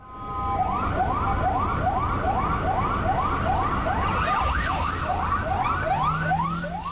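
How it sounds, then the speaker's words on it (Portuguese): A Military Police car and a SAMU ambulance speed along Avenida Dom Pedro toward the Hospital das Clínicas, their loud wailing sirens repeating rapid rising sweeps close by, with two overlapping patterns near the middle over traffic rumble. "Em alta velocidade na Avenida Dom Pedro segue a viatura da Polícia Militar e a ambulância do SAMU."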